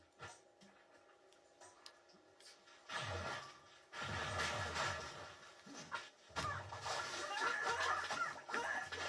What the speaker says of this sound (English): Shoo those birds away